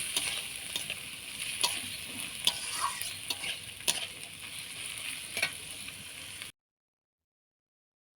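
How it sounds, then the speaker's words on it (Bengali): Ingredients frying in oil in a pan for prawn and peel bhorta, a steady close sizzle with occasional stirring clicks, continuous for about six and a half seconds before cutting to silence. "এইভাবে তেলে দিয়ে একটু ভেজে নিতে হবে।"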